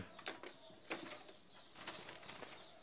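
Several short bursts of magpie-robin wings flapping close by, in quick fluttering clusters with brief pauses between them, no voices.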